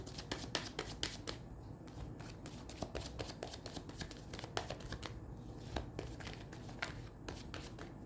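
A tarot deck is shuffled up close, a rapid, continuous flutter of riffling cards with soft papery slaps, quiet and steady for several seconds.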